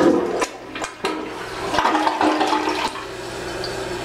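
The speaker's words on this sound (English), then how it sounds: "Let's see what kind of flush this has." A modern Kohler toilet in a hotel bathroom flushes with a loud rushing surge of water that swirls and drains over a few seconds, heard up close and alone.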